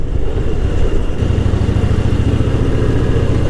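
A hot Fat Boy motorcycle engine rumbles loudly and steadily during a sunny ride in South Bengaluru, a deep close-up throb with a slight shift in tone partway through, no voices.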